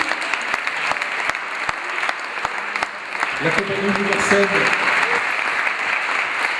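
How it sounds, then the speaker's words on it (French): An audience claps in steady applause for actors arriving on stage at a theatre show, the clapping continuous and fairly loud throughout, while a voice speaks briefly over it partway through. "j'ai juste envie qu'on applaudisse encore une fois les comédiens qui vont arriver sur scène"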